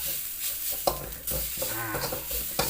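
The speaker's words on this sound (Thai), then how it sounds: "คั่วพริกมันหอมๆนะครับ โดยใช้ไฟ ไฟปานกลาง" Dried chilies are dry-roasted and stirred in a pan over medium heat, giving a soft continuous scraping and light sizzle. Occasional louder knocks of the utensil against the pan are heard and no one talks.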